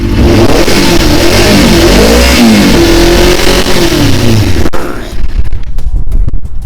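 A Yamaha R6 motorcycle that cuts out when hot revs loudly and steadily on the throttle, close to the mic, then suddenly drops off near the end, leaving a few faint pops and crackles.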